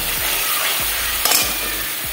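Spice paste with potato, mango and shol fish sizzles loudly in hot oil, a steady close frying hiss with rhythmic scraping strokes of a spatula stirring through it.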